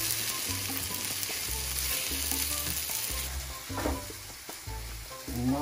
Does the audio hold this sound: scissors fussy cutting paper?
no